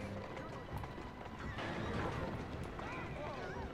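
Horse hooves clip-clopping on a road in Assassin's Creed Syndicate, a steady galloping patter with a whinny, heard under a man's speech.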